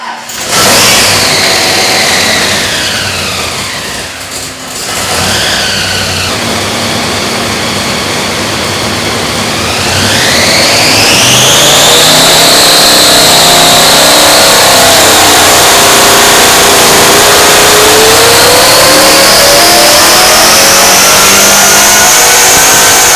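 A supercharged stroker Hemi V8 roars on a dyno, climbing steadily in pitch as it revs hard under load, building to a sustained high wail; no voices.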